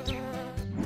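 Bees buzz in a close, steady drone, loud, with slight shifts in pitch as they hover near.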